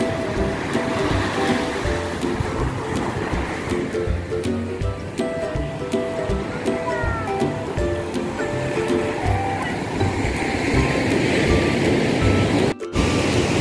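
Surf rolls in steadily at Citepus beach in Pelabuhan Ratu, a broad continuous wash of breaking waves, with faint tonal beeps and distant activity mixed in.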